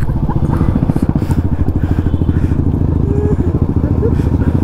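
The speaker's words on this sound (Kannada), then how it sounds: "ಸಾಗರ್ ಗಾಡಿ ಇದೆ" A motorcycle is being ridden, and its engine pulses in a steady, rapid low rumble that stays loud and close throughout while people talk over it.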